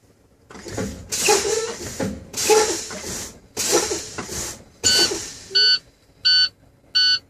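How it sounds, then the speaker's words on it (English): Bursts of air-brake hiss give way to three loud, evenly spaced electronic buzzer tones near the end: a truck's low air pressure warning buzzer sounding during a CDL pre-trip interior inspection. "make sure that the light and buzzer come on at no less than 60"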